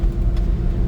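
A Suzuki dump truck's engine grinds along in a loud, close, low rumble as it shifts from third into fourth gear climbing a muddy hill, heard alone for a split second.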